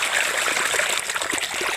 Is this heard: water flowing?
yes